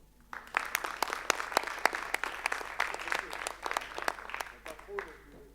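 A municipal council meeting, May 2020: a room of people claps steadily for a newly named deputy mayor, a dense run of sharp hand claps lasting several seconds before thinning out near the end.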